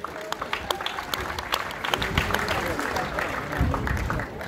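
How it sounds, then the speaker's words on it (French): An audience at a president's inauguration speech on Marie-Galante claps in a building round of applause, scattered sharp claps at first thickening into steady crowd clapping with some murmuring. "vous pouvez les applaudir bien fort"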